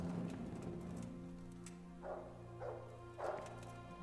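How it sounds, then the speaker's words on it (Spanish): A dog in the medieval video game Kingdom Come: Deliverance gives three short, faint barks at the far end of a low, steady background rumble of the game. "¿Qué hace el perro? El perro está peleando con alguien."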